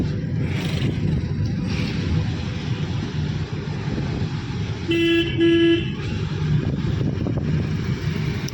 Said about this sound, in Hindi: हॉर्न लंबा यूज करेंगे, जितने कट पड़ेंगे आपको हॉर्न देना है